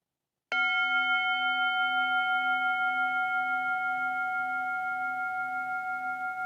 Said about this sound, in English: in a moment, you'll hear me strike the bell